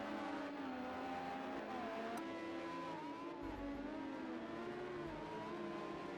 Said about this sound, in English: as you can hear him bouncing off the rev limiter